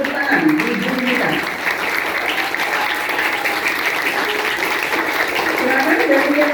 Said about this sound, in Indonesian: mari kita berikan apresiasi dengan memberikan tepuk tangan